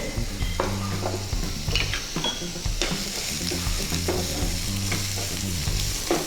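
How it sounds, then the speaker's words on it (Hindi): Onions frying in two spoons of oil, a steady loud close sizzle with frequent scraping and clinking of a spatula against the pan as they are stirred toward light brown. "इसमें भी हम डालेंगे प्याज। इसे हल्का ब्राउन होने तक हम फ्राई करते रहेंगे।"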